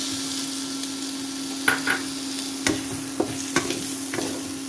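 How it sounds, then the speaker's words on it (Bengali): Spices and tomato sauté in a pan with a steady sizzle and a constant electrical hum underneath. A utensil gives several distinct scraping stirs at irregular intervals, close and fairly loud, with no talking. "এবার এটাকে ভালো করে কষে নেব।"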